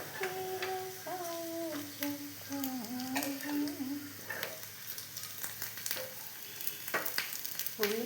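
Onions fry quietly in a pan for a kadala parippu erissery, a soft steady sizzle with faint stirring and scraping, while someone speaks over it.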